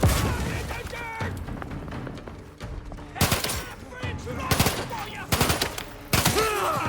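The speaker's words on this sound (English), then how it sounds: "Nice little burst fire here on this one" Burst-fire gunfire from a weapon in the video game The Outer Worlds 2, with loud, repeated clusters of rapid shots coming in bursts, plus a few scattered single blasts.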